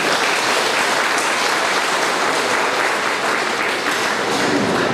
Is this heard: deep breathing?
no